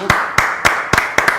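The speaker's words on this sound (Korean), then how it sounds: "자, 박수 한번 쳐주죠." Five or six sharp, separate claps land in a loose, uneven rhythm, as a studio audience begins clapping on cue in a Korean comedy show segment about a king's dining table.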